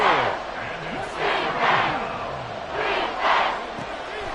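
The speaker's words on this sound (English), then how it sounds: "A big play here. Crowd on their feet." A stadium crowd at an NFL football game during a big Jaguars play roars and cheers, the noise swelling and surging in loud waves throughout.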